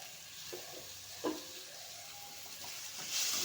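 Tomatoes frying in ginger-garlic paste in a pan: a quiet, steady sizzle with a few soft stirring scrapes and a brief louder spatter, the hiss rising slightly at the end.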